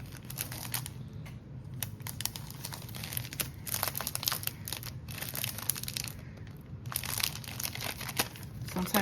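A taped plastic-wrapped craft kit package is opened up close, with steady crinkling plastic, tape peeling and crackling handling noises throughout, fairly quiet with no talk.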